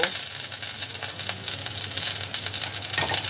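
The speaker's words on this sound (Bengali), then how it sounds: "চিজ বলগুলো বেশ ভালোভাবে ফ্রাই করা হয়ে গেছে। এবার এগুলোকে এরকম একটা হাতার সাহায্যে আমি তেল থেকে তুলে নেব।" Cheese balls bubbling and sizzling steadily in hot frying oil, a continuous close crackle with a few faint scraping clicks as a ladle lifts them out; no talking.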